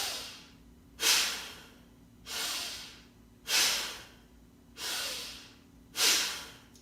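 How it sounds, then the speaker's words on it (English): Slow, deliberate breaths drawn into the chest during a breathing exercise, five or six strong airy inhales and exhales at an even pace, close and clear with no talking. "we're gonna breathe into our chest"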